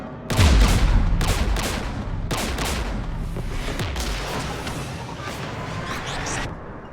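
Heavy gunfire in the Mass Effect Legendary Edition video game, with dense bursts of shots and booming impacts rolling almost continuously for several seconds, loud and close, with no talk over it.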